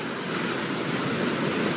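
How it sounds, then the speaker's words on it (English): Ocean waves wash onto the beach at La Jolla in a broad, steady surf hiss with some wind on the microphone, no voices. "I'd record this with the waves in the background here at the beach"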